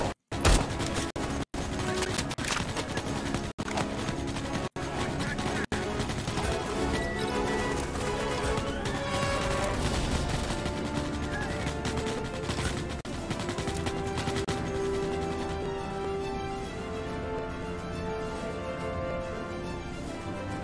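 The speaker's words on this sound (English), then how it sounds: "everyone's shooting at shit behind me" Dense, continuous gunfire from many shooters in the video game Starship Troopers: Extermination, a steady loud barrage of overlapping shots with sharp cracks punctuating the first few seconds.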